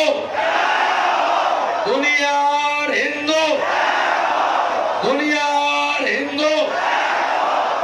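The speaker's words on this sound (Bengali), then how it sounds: "এ সময় বাংলাদেশ বিরোধী বিভিন্ন স্লোগান দেওয়া হয় মিছিল থেকে।" A street protest march in the Petrapole port area, where a large crowd chants slogans in unison, loud and close, in rhythmic repeated bursts.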